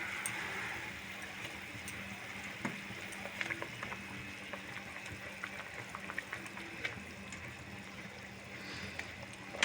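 Katla fish curry in a mustard and poppy seed gravy simmers in a pan, giving off a faint, steady bubbling and soft popping with no voices.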